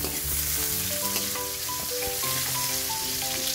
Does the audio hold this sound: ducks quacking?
no